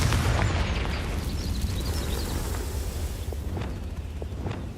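A Confringo blasting curse explodes in Hogwarts Legacy, a loud, broad burst with a heavy low rumble that fades slowly over several seconds, with faint sparkling crackles on top.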